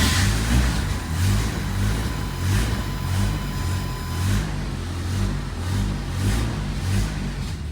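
A Toyota pickup truck engine with a full custom exhaust revs repeatedly with a deep, throaty rumble, rising and falling in steady pulses, loud and close.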